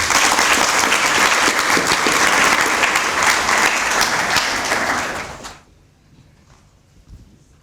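Audience applause at a law clinic moot court event, dense and steady for about five seconds before abruptly cutting to near silence.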